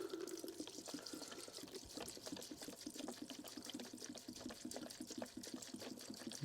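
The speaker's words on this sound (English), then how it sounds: "I'm going to pour in degreaser." Degreaser liquid poured onto the mechanism of a vintage cuckoo clock, giving a steady close-up splashing and trickling with busy liquid patter throughout.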